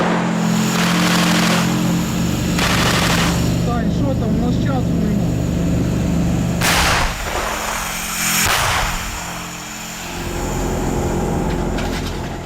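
Machine gun and weapon fire at a Ukrainian frontline in Donbas, loud sustained bursts and sharp reports with a rumbling blast, someone talking over the shooting throughout.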